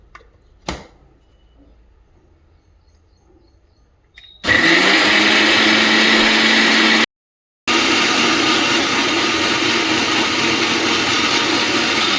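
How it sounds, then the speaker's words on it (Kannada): An electric mixer grinder blends amla, beetroot and carrot with water. After a quiet start, the motor roars on loud and steady, cuts out for a moment, then starts again. "ನೀರು ಹಾಕಿ ಇದನ್ನು ಚೆನ್ನಾಗಿ ರುಬ್ಕೊಳ್ತೀನಿ."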